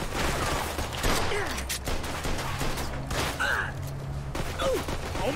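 Shotgun blasts during a gunfight in the video game Mafia II, several heavy bursts spaced irregularly amid gasps, grunts and scattered in-game voices.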